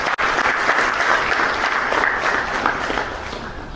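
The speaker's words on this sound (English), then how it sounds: "So if we could just give all of them also a round of applause." A summit audience at a university sport management event gives a sustained round of applause, with even, continuous clapping from a crowd and no voices over it.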